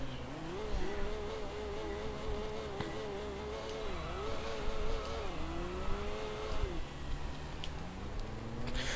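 Racing game car engine from Sega GT, a poorly geared car, droning steadily with wavering pitch that rises and drops through gear changes, continuous and fairly loud for the whole stretch.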